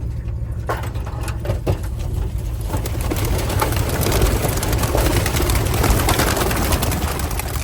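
Racing pigeons released outdoors on a short four-mile training toss, with scattered wing flaps and clatter at first, then a steady rush of flapping and cooing birds mixed with outdoor background noise.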